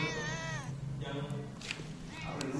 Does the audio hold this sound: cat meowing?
yes